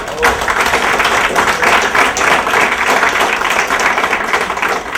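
Audience applause at a university event at Universidad Sergio Arboleda, a dense, steady wash of many hands clapping at full volume for the whole stretch.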